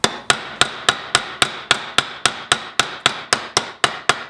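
Hammer blows peen a rivet into an AK-47/74 gas piston, about fifteen sharp metallic strikes in an even rapid rhythm, close and loud, each ringing briefly before the next.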